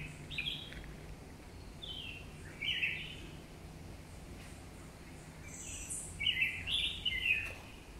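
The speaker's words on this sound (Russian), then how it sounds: "Просто райское пение птиц," Several birds sing in short, bright phrases in Mauritius, some nearer and some farther off, over a soft steady outdoor hiss.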